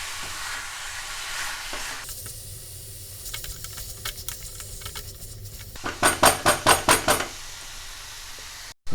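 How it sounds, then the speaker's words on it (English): Mutton pieces sizzle in a hot pan over medium heat with a steady frying hiss, then a short run of loud scraping knocks as the meat is stirred near the end; no one speaks. "So I'm gonna add the mutton pieces in this, and also increase the heat to medium, and then just give it a little stir."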